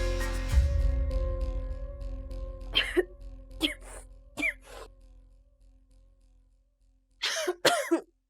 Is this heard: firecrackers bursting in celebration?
no